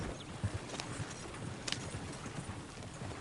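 Horse hooves clip-clop in a video game, a steady walking rhythm of soft hoof beats at moderate distance, with a few sharper clicks over a faint background hum.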